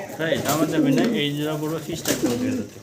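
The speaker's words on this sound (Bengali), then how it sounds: "নর ডাকতেছে, মাদি পাশে আছে।" A male pigeon coos close and loud in rolling, throaty bursts, two drawn-out calls with a short break between them.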